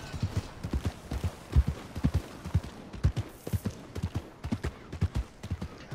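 Horse hooves clip-clopping in Red Dead Redemption 2, a steady walking rhythm of close, muffled thuds on the ground, clear and alone with no talking.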